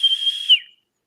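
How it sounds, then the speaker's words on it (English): A single high-pitched, one-note whistle holds steady for about half a second, then slides slightly and fades out, leaving silence; close and fairly loud, with no other sound. "if you hear that high-pitched one-note whistle, might be them, not Sasquatch"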